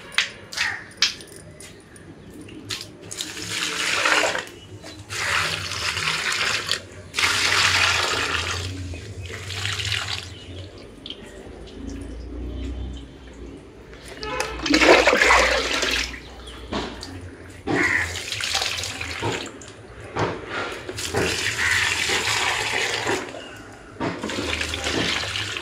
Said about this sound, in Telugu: ఇప్పుడు ఈ నీటిని మన మొక్కలకి వేసేసుకుందాం.